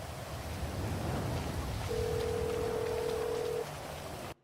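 Steady rain hisses throughout a roleplay video game scene, with a flat phone dial tone sounding over it for a couple of seconds midway before everything cuts off.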